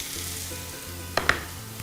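Chopped onion sizzles in a hot pan as a constant frying hiss, broken by a couple of sharp clatters from a stirring utensil, with no talk over it.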